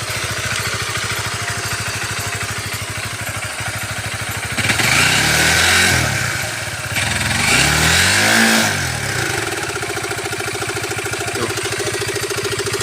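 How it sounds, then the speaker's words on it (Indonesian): A motorcycle engine runs close by at a rough, pulsing idle, revving up twice before dropping back to a steady putter. "ini suara motornya guys"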